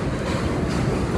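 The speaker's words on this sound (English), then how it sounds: "that's the 7:52 train leaving," The 7:52 train pulls away from the station, a steady rumbling roar of rail cars with a broad hiss, moderately loud and continuous, with no one talking.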